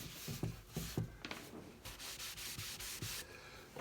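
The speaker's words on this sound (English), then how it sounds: "This time I'm buffing it out with an old sock, inside out" Old inside-out sock rubbed across a wood finish on a step stool, brisk repeated back-and-forth scrubbing strokes, close and soft, with no talk.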